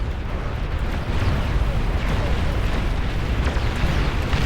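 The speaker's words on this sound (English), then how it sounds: "Those ultimate plasma cannons." Heavy plasma cannon fire and explosions roar together in a huge Beyond All Reason real-time strategy battle, a loud continuous rumbling barrage of booms with no gaps.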